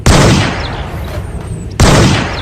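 Toy AK47 gun sound effect, two loud bursts of electronic gunfire, the second starting after a short pause, close and alone.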